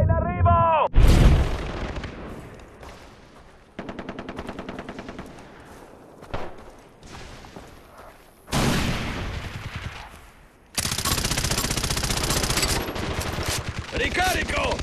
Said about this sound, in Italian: Bomba al propano alleata in arrivo!